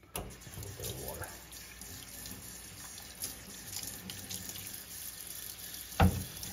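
A kitchen tap runs steadily while squirrel meat is rinsed under it, giving a close, continuous splash of water with a brief louder gush near the end.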